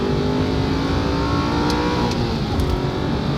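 An Aston Martin Vantage engine revs steadily while warming up before an oil change, a loud continuous mechanical roar with a rising pitch toward the end and no talking.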